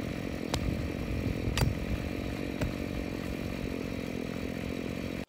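An engine-powered edger cuts a shallow trench along a line for woven wire farm fencing, its small motor buzzing continuously and close by, with a few sharp spikes where the blade strikes debris, then cutting off at the end.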